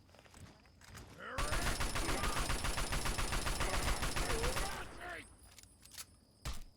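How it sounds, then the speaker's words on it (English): Assault rifle gunfire in Fallout 3 at the Germantown Police HQ: one loud, rapid automatic burst lasting about three and a half seconds, followed by a few scattered single shots and faint background noise. "Assault rifle."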